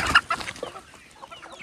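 Free-range country hens on an Indian village farm cluck in a few sharp, close bursts at the start, trailing into softer scattered clucks from birds nearby.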